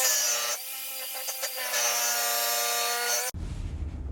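A jigsaw buzzes steadily through wood for about three seconds, a harsh high rasp with a steady hum beneath, then cuts off abruptly into quieter rumbling.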